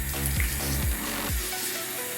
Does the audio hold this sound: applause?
no